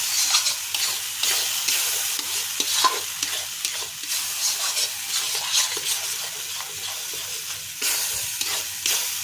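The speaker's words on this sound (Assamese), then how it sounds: "তেলটো ওলোৱাকলৈকে মই ভাজি ল'ম" Cashew and sesame paste frying in hot oil, a steady close sizzle with scraping stirring strokes throughout, no voices.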